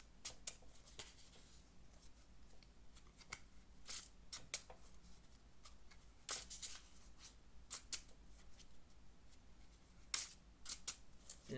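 New playing cards are shuffled in quiet, scattered bursts of crisp riffling and snapping, fairly faint and close, with gaps of low room hiss between the flurries.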